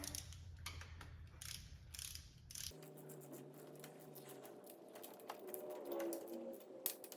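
A ratchet wrench runs down cylinder head bolts on a Dodge HEMI engine, giving quick clicking pawl bursts in close succession, with a low hum early on, heard close up without talk.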